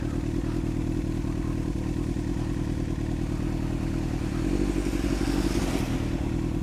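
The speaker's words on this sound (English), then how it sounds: "Don't go too fast. Keep the bike upright." Motorcycle ridden slowly in gear over a bumpy snowy road, its steady close engine drone running throughout with rattling clatter and scraping bumps, rising into a louder rough surge near the end.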